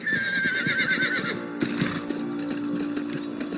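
Horses in the video game Red Dead Redemption whinny, with a loud, wavering neigh filling the first second and a half, then a steady game background drone with scattered hoof and clatter sounds.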